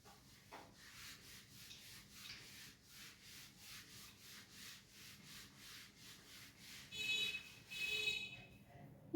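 Repeated rhythmic rubbing strokes of a duster erasing a board during a Class 11 maths lecture on relations and functions, steady and moderately close with no talking, swelling slightly louder near the end.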